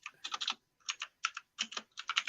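Quick bursts of typing on a computer keyboard, close and crisp, with clustered key clicks separated by short pauses.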